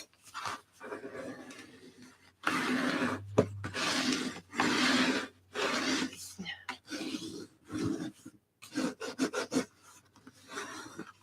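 Tool scoring a paper page for an art journal, heard as close, repeated scraping and rubbing strokes in short bursts with pauses between them.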